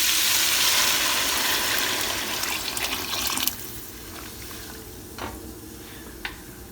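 About two liters of water poured into a stew pot of sweated vegetables for German Eintopf: a loud rushing pour for roughly three and a half seconds, then quieter bubbling and a couple of small clinks.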